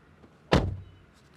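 A single solid door thud from a 2022 Maruti Suzuki Alto K10 budget hatchback, one sharp close with a short dull decay, heard alone and fairly near.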